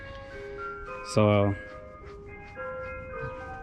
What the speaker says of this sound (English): damn, ice cream truck.